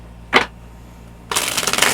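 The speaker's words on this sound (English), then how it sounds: "just give me a moment to shuffle and lay out these cards" Tarot cards being shuffled: a brief riffle burst near the start, a pause, then a longer stretch of rapid, crisp card flutter and slapping, close and fairly loud with no talking.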